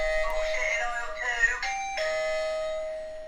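Podcast bullshit button sound effect, a bright chiming ding-dong doorbell-like tone that rings out clearly at close range for a few seconds with no talk over it.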